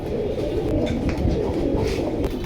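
Pigeons coo in a steady, low, burbling drone with overlapping calls close by, with no one speaking.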